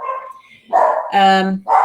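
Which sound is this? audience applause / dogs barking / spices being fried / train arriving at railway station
dogs barking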